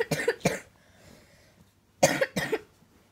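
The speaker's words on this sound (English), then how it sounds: "and I got a cough" Four sharp coughs come close to the mic, arriving as two quick pairs separated by a short pause.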